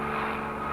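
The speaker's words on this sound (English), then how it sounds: "Thank you very much, aeroplane." An aeroplane drones steadily overhead, a continuous broad engine roar at moderate loudness with no talk.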